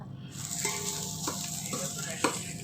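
Food frying in a pan at home, a steady broadband sizzle with faint clinks and scrapes from stirring, a couple of sharper clatters near the end, continuous and fairly close.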